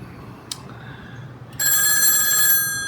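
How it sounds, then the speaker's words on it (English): A 1A2 key phone system's telephone bell starts ringing after a brief click and quiet room tone, a loud, sustained metallic jangle with bright ringing overtones lasting about a second before easing off. "we've got the ringer on right now, so we'll certainly hear it"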